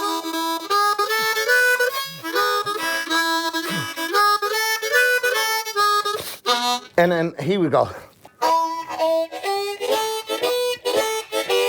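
A harmonica plays in an old-style blues manner tied to Clarksdale, Mississippi, with bright sustained reedy notes and bent, wavering phrases; someone speaks briefly partway through.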